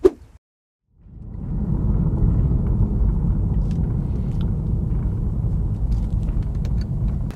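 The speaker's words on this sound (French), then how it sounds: "Allons tout de suite faire cet essai routier." A BMW petrol car with a tuned stage 1 engine map on a road test, a steady, loud, low engine rumble from inside the cabin that starts after a brief silence and holds throughout.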